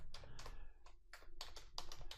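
Computer keyboard typing while entering PowerShell commands, a quick uneven burst of about ten close key clacks over a low hum.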